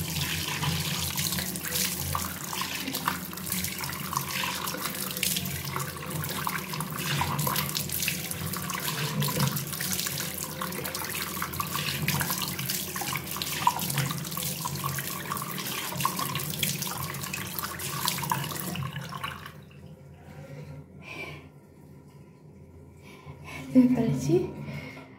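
Tap water runs steadily into a sink for about twenty seconds during a face wash, a continuous close rushing that then stops, leaving faint splashes and handling noises.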